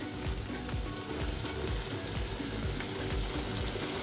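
Onion and chilli paste with turmeric fries in a pan, giving a dense, steady, close sizzle that barely changes in level, with faint stirring underneath and no voices.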